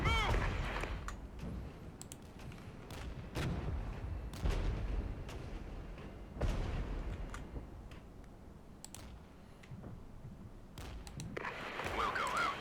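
Artillery fire in the strategy game Regiments lands as repeated muffled booms and sharp cracks spaced across the battle, with a low rumble between impacts.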